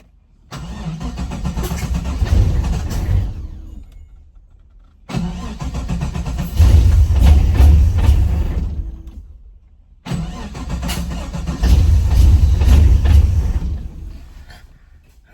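An LS-swapped Datsun 280Z engine is revved hard three times, each rev swelling loud and close for a few seconds before cutting off abruptly into near silence.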